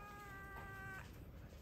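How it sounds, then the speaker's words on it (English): A barn cat gives one clear, drawn-out meow, up close and alone over quiet background hiss. "Two barn kitties right here."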